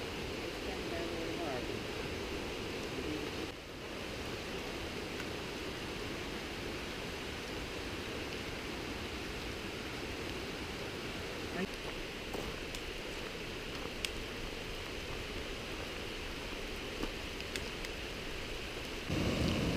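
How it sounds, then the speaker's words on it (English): Steady rain falls on a river trail at Elkmont along the Little River, a continuous broadband hiss with scattered drops, constant in level throughout. "Steady drizzle, starting to come down a little harder."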